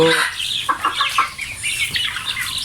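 Chickens inside a poultry farm cluck and squawk in short irregular bursts close by, with a few higher chirps over a low, steady farm background and no speech.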